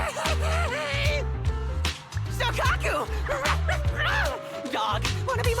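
Dog barking in the video game Zenless Zone Zero, short yips and woofs repeating over a busy, loud game soundtrack with layered effects and music.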